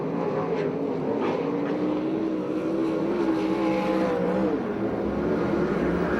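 USAC/CRA sprint cars race on the dirt track at Perris, California, their engines a loud, continuous, droning roar that rises and falls slightly in pitch as the pack circles, steady throughout with no pause.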